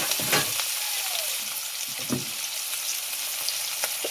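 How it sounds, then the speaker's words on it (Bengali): Shrimp sizzling in hot oil in a kadai with turmeric powder, a steady bright crackle with a few louder spits and stirring scrapes, close and continuous with no voices. "চিংড়িগুলো ভেজে নেব। কড়াই তেল দিচ্ছি, হলুদের গুঁড়ো,"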